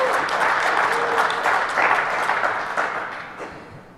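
Conference audience at a DEF CON awards session applauding and cheering, a dense, steady wash of clapping that stays loud throughout and tapers slightly toward the end.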